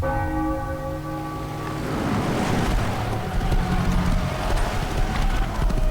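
Horse hooves clop steadily in the game Mafia: The Old Country over a bell-like ringing tone that fades, with a constant rumbling ambience beneath; no one speaks.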